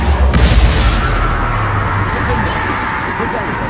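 A Confrigo blasting spell bursting in Hogwarts Legacy, a loud booming impact near the start that decays into a rumbling tail, with a voice speaking over the sound.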